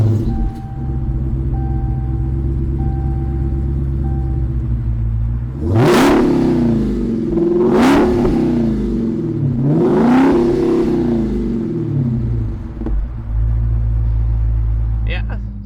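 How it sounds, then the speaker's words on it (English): A Dodge Hellcat's Hemi V8 turns over and settles into a deep idle, then gets three sharp, throaty revs that climb and fall before dropping back to a rumbling idle, heard up close. "Sounds like a Hemi."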